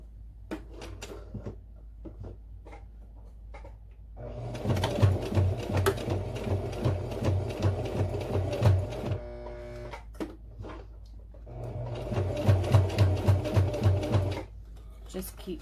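A clunky home sewing machine top stitching around the edge of a fabric pouch, running in two long steady bursts of rapid rattling needle strokes with pauses and clicks between, close by and with no voice over it.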